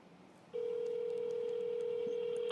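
A telephone ring-back tone during an outgoing call to someone at work comes in as a single steady electronic tone. It starts about half a second in after quiet background and holds until the end.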